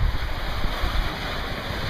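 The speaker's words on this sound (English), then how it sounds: "here's another shot of the water that was crashing up against our canoes" Lake water crashing against canoes: steady broadband wash of surf and splashing with wind noise, loud and close, rolling on without pause.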